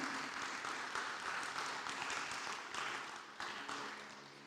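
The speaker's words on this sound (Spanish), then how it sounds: "¿Por qué no le damos un aplauso a ese que es poderoso?" A church congregation applauds during a sermon, a faint, dense wash of many clapping hands from a distance, sustained without pause through the whole stretch.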